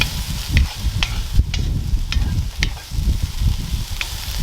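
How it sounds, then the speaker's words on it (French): Salted vegetables sweat over a barbecue grill, a steady low sizzle under repeated stirring, with sharp scrapes and clicks of a utensil recurring every half second or so, close up. "je fais juste saler mes légumes de même, les faire suer."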